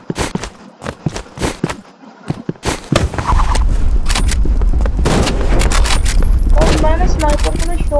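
Shotgun fire in the Roblox game Rivals comes as a quick burst of sharp gunshots, followed by a loud, dense rumble of in-game action and impacts, with a voice talking over part of it.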